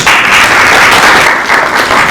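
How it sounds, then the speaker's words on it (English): A loud, dense round of applause from an audience at a climate and media accountability forum, continuous and close with no voices over it. "Let's give a round of applause"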